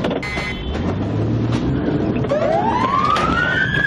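A loud police siren wails close by, its pitch sweeping upward over steady vehicle and road noise.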